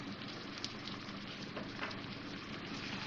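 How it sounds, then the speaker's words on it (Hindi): Garlic and ginger paste, with a splash of water added to onions, fries in hot oil for a Punjabi dhaba-style paneer masala, giving a steady soft sizzle and crackle that stays even and fairly quiet throughout, with no talking. "लहसुन अदरक डाल के 1 मिनट मैंने इसको भूना है"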